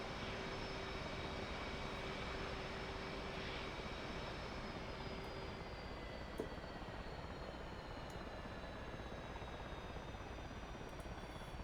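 F/A-18C jet engines spool down in a DCS flight simulator, a broad steady roar with slowly falling whine tones and a few faint clicks.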